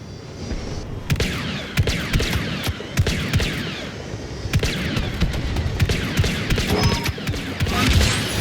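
Han Solo's DL-44 blaster fires repeatedly in Star Wars Battlefront 2, a steady series of sharp, snappy shots amid mechanical clatter and distant battle noise over several seconds.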